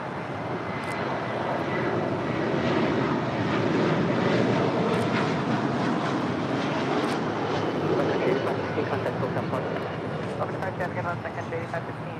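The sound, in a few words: airliner departing LAX runway 25 left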